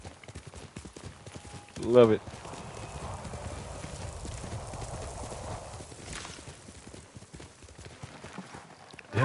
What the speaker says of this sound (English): time to escape with this white ass horse through the darkness